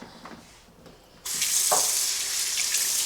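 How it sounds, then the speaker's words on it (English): Cold water gushes from a hotel sink tap, starting abruptly after a quiet moment and then running steadily and loudly without a break. "I'll run some cold water so I can pull out any residual food."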